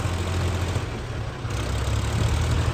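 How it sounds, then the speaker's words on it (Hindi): A tractor stuck at a grain market at night, its engine holding a steady, loud, low idling rumble throughout with no break and no talking. "ये वो ट्रैक्टर फंस गया भाई।"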